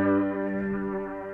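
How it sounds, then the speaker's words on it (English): A sustained, harmonically rich tone processed through the RC-20 Retro Color plugin's wobble effect, sounding filtered and slightly wavering, loud and alone for just over a second before cutting off abruptly. "it actually sounded a little filtered, like the wobble might have been only doing a specific frequency"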